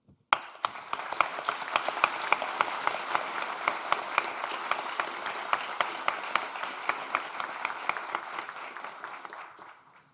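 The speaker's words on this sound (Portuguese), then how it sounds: "nós batêssemos palmas para todos que estão nos assistindo aqui" An audience at a business forum panel of CEOs applauds steadily for about ten seconds, a dense wash of many hands clapping close and loud, with no talk over it.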